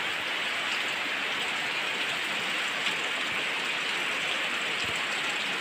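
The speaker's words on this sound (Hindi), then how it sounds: "बारिश आ गया," Steady rain pouring down, a dense continuous hiss of drops on surfaces, fairly loud and even throughout.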